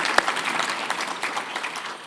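Applause from a conference audience at a parents' education-freedom event, a steady crowd clapping that stays fairly even for about two seconds with one sharp louder clap near the start.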